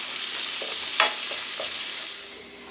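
Salt pork frying in a pan for Newfoundland stewed cod, a steady close sizzle with a sharp utensil tap near the start and a few soft stirring sounds, fading slightly at the end.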